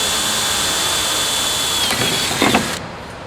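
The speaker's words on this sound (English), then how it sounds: "you just want to drill straight through" A steady power-tool whine runs throughout as a drill bores straight through aluminum at the end of a crack, with a short burst of harsher grinding near the end before it cuts off.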